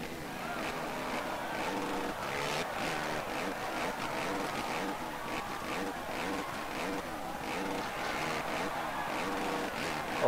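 Rival motocross bikes trail behind in the MX vs ATV Reflex multiplayer national race, their engines buzzing and revving continuously in a dense, fluctuating drone at moderate level with no talk.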